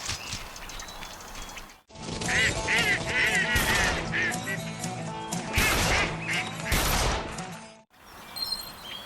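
Ducks quack and honk in the Duck Dynasty video game on Xbox One X after being called in, a dense and fairly loud chorus of calls lasting several seconds with brief silence on either side.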